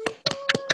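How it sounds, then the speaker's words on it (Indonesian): A few webinar participants clap over open microphones, giving four quick, sharp claps in uneven pairs, with a faint steady tone humming beneath. "Ada suara tepuk tangan, ada apa."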